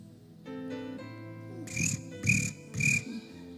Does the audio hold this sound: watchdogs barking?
no